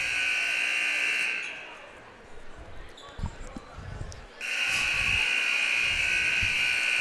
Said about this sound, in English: That buzzer is so loud.